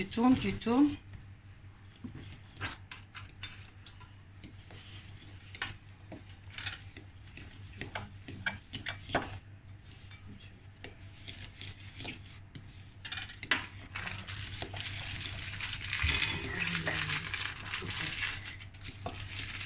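A whisk scrapes and rattles against a bowl as caster sugar is beaten for pastry cream for a strawberry tart, in irregular rubbing strokes beneath ongoing conversation.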